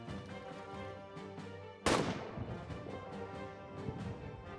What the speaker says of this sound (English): Heads down, artillery.